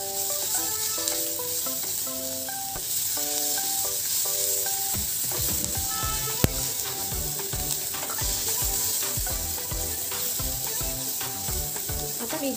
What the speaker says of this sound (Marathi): ती देखील आपण व्यवस्थित परतून घेऊया.